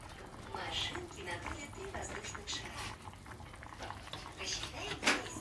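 Porridge cooked in chicken broth simmers in a partly covered pot on a home stove, giving a faint, steady bubbling under quiet indoor sounds, with a voice talking nearby.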